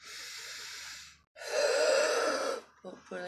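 Deep pranayama breathing from the stomach: a long, airy inhale, a pause, then a fuller, louder exhale, followed by a few short, choppy breaths, all close and fairly quiet.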